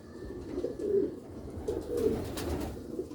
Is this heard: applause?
no